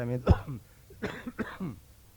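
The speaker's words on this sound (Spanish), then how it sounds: "Esta tos es parte del programa, así que tómenla como algo folclórico" A single sharp cough bursts out during a Spanish-language sermon, followed by someone speaking briefly in a low voice.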